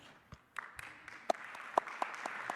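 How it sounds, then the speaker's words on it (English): Scattered hand claps come from the audience of a live stage debate, a faint, uneven handful of sharp claps against a quiet hall. "I love how Shabir Ali is clapping there"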